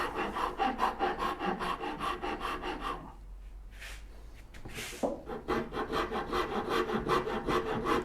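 A rasp rounds over a wooden part for a turning bow saw. Close, rhythmic scraping strokes repeat steadily, with a short quieter break of light scratches partway through before the steady rasping resumes.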